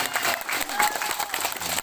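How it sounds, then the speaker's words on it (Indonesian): Crowd applause for a woman farmer-group leader at a rice-planting event in Desa Pangkal, a short, lively burst of clapping with some murmured voices mixed in. "Jadi beri tepuk tangan untuk Ibu Misi."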